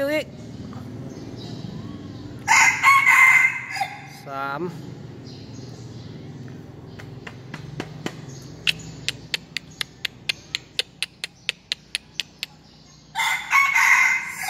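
A rooster crows loudly twice, once early and again at the end, with a run of sharp rhythmic clicks and voices in between.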